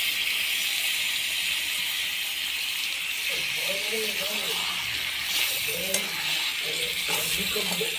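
Goat fat and potatoes hiss and crackle in a pan as they are stir-fried, a dense continuous sizzle with occasional spatula scrapes, and a voice talking faintly underneath for part of it.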